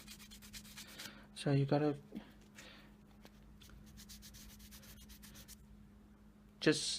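Soft, repeated rubbing and sanding strokes by hand on a resin ring, close and quiet, with brief speech breaking in twice.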